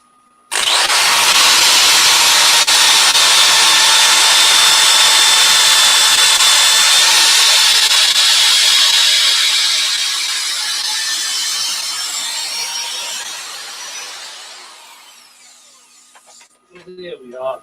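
Power sanding of a 12 by 4 inch ash wood bowl spinning on a lathe, a loud steady broadband whir that holds for several seconds, then eases and fades out near the end.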